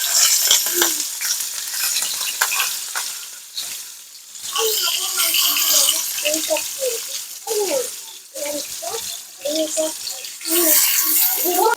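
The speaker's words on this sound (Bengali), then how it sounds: "তেল গরম হয়ে গেছে, এবার আমি মাছগুলো দিয়ে দিচ্ছি।" Pieces of rui fish hit hot oil for a cabbage curry, giving a loud, bursting sizzle that swells and fades in waves, with a voice speaking in the middle stretch.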